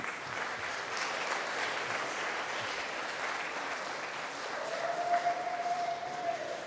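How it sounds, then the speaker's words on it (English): At a university and TAFE graduation ceremony, a large crowd of graduates applauds their families with steady, dense clapping that swells slightly toward the end, with a faint tone sounding briefly near the close. "now I want you to face your victims. Sorry, your families. And I want you to give them a good clap."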